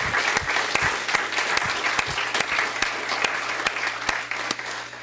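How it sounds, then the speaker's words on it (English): An audience gives a round of applause for a town recreation bureau's staff, a crowd of hands clapping in a busy patter with a few sharp, distinct claps standing out nearby, continuing steadily throughout. "I'd like to give them a round of applause"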